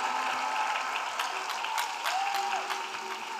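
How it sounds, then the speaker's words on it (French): An audience at an evangelical preaching and testimony gathering claps in sustained, dense applause from many hands, steady and moderately loud for several seconds with a faint murmur of crowd underneath. "Yes, clap for Jesus Christ."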